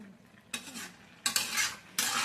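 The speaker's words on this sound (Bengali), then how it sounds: "দেখো, এই যে বাঁধাকপি এই যে মুগ ডাল সিদ্ধ হচ্ছে" A pot of moong dal with cabbage on the stove in a home kitchen, heard as three short bursts of stirring and sizzling with quiet gaps between them, close and fairly loud.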